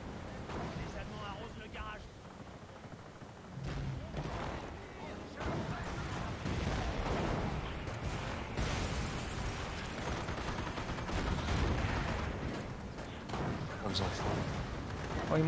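Booming cannon and artillery fire with scattered gunshots in a noisy Company of Heroes battle, explosions rolling on throughout while a voice talks over the action.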